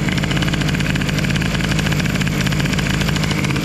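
A tuned Peugeot 103 moped engine idling as it warms up, a loud, steady, fast-pulsing buzz heard close and unbroken throughout, with no talking.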